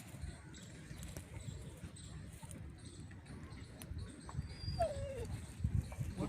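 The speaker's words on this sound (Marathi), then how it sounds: "कुत्रे बघा" Dogs in a forest during a hunt for wild vegetables, with a brief whimpering yelp rising near the end over steady rustling and outdoor background noise.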